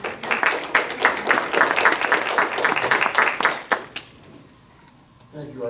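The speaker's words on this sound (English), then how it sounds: "Let's have a round of applause for our moderator tonight." A crowd at a PTA/PTSA candidates' forum applauds the evening's moderator, a burst of loud, close clapping that swells and ebbs for about four seconds, then cuts off to near quiet before a voice begins speaking.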